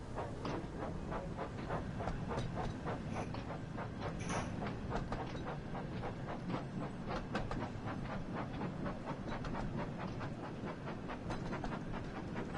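A steady rhythmic clickety-clack of a train running along Thomas's branch line in a Thomas the Tank Engine video game, continuous mechanical rattling and chugging with no talk.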